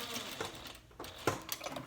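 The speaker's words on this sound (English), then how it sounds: "Give it a little back stitch at the end." A sewing machine back stitching at the end of a seam on a handbag with a recessed zipper: short, quiet bursts of rapid mechanical stitching, close by, broken by brief pauses.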